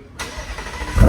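A 900 HP 2025 BMW M4 Competition xDrive fires up: a sharp crank catch after a brief quiet moment, then a steady rumbling idle that swells into a deep low surge near the end, close and loud with no talking.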